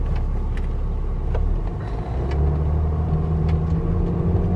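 BMW X5 E70 with an inline six-cylinder engine accelerating, heard as a steady deep rumble and road noise from inside the car, building slightly in intensity over several seconds.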